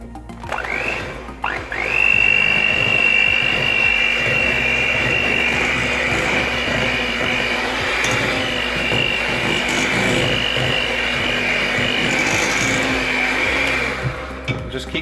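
Electric mixer whirring steadily as milk is worked into a German apple cake batter, a continuous motorized drone close by with a brief start and no talking.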